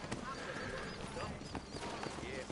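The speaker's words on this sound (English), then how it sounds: "You ain't gonna find sturdier horses than these in all of New Ulm." Horses in the Red Dead Redemption video game clip-clop with quick hoofbeats and a whinny, fairly loud and close, mixed with a voice speaking over the brief scene.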